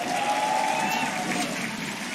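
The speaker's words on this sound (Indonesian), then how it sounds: "mana tepuk tangannya?" An arena audience applauds and cheers during a Mobile Legends esports match between EVOS and AE. The steady clapping and crowd noise run throughout and ease slightly toward the end.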